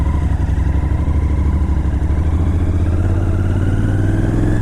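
A Royal Enfield GT 650 motorcycle on a ride, its engine droning loud and close with a steady throbbing beat and a slowly rising pitch.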